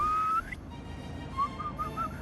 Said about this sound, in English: The dolphins return at the sound of whistling.